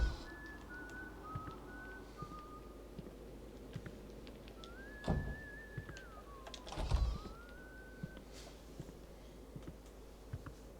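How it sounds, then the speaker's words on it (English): Eerie melodic whistling from the horror game White Day: A Labyrinth Named School, a lone wavering tune drifting up and down in pitch over quiet ambience, with a couple of soft thuds in between. "There's the whistling."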